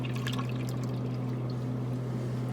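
Milk pours from a gallon jug into an Instant Pot, a steady splashing stream over a constant low electrical hum.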